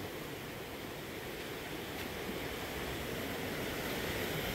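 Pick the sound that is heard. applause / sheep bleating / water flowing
water flowing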